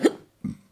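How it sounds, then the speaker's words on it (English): A short, close burp followed a moment later by a single quick hiccup. "that was a burp and a hiccup"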